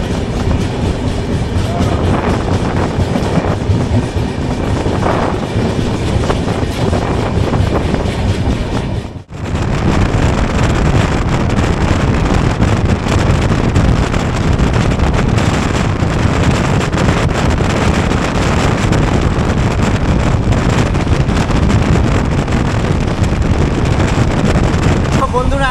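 The SMVT Bengaluru–Howrah express pulling out of Bhadrak station, a loud continuous rumble of wheels and carriages with wind buffeting, recorded from on board, one brief dropout partway through.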